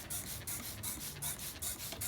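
A spray bottle mists water over dry worm compost with IMO4 in it, giving about eight quick, rhythmic hissing squirts, close and fairly soft.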